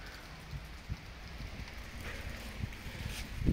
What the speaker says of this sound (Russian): Пошел дождик.